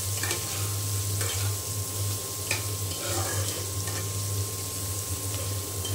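Chopped onion and green chili frying in a generous amount of hot oil, a steady crackling sizzle with occasional stirring scrapes over a low background hum.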